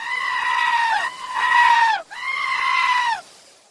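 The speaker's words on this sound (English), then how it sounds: "screaming like that screaming goat thing on the internet" Loud goat screams, the kind from the viral screaming-goat internet clip, come in three long harmonic bleats back to back, each cracking at the end, with no talk over them.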